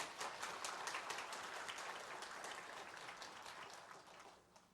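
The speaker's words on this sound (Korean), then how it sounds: "영광의 박수 올려드리겠습니다" Distant, faint clapping from a church congregation at a New Year's Eve service carries steadily for several seconds and slowly tapers off.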